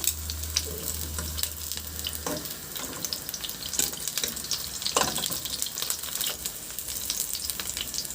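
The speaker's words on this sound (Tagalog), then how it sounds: "Isunod ko na rin iprito yung talong" Sliced eggplant fries in a pan of oil with a steady crackling sizzle and scattered sharp pops, joined by occasional clinks and scraping stirs, close and fairly quiet.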